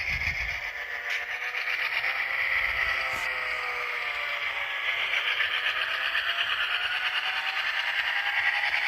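An Intermountain HO scale RF&P FP7 model locomotive with DCC sound running in reverse, giving off a continuous, fairly loud engine drone with a faint rhythmic rail clatter and no talking.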